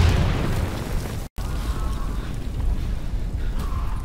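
A frag grenade explodes in the video game Insurgency, a loud, rumbling boom that opens the moment, cuts out briefly, then trails into low, dusty rumble and debris noise.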